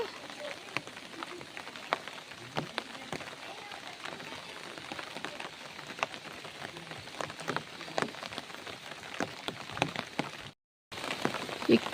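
Steady rain patters across a forest surface throughout, dense and even, with scattered sharper drops; a short dropout near the end.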